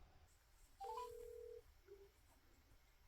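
A phone call being placed gives a short series of faint touch-tone beeps, then one longer steady tone, then a brief soft blip, all quiet against a low background hiss.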